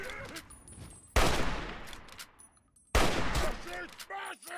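Two loud, sudden blasts of gunfire in a video game, each decaying over a second or so, with game sounds and some brief voice-like tones between them.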